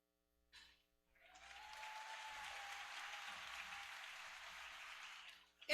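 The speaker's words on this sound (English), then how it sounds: "Let's give her a round of applause as she comes." A graduation ceremony audience breaks into applause after a brief opening clap. The many hands build quickly into a steady, moderately distant ovation that holds for several seconds before tapering off.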